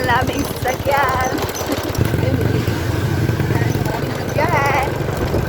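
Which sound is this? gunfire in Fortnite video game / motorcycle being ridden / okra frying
motorcycle being ridden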